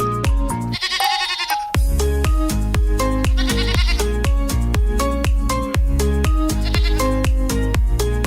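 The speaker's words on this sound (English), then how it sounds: "G for goat." A goat bleats in three separate wavering cries, loud and close, over a steady rhythmic music backing.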